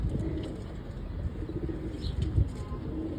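Doves cooing on a house rooftop, soft low calls repeating faintly over a steady background hum, with no talking.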